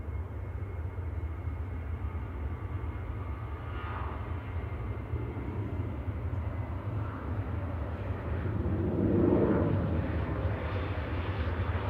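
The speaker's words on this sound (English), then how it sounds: "So next up's the A380. It's Eva this morning." An Airbus A380 registered A6-EVA arrives at Manchester on flight 21 from Dubai, a distant, low, steady jet rumble that swells slightly toward the end.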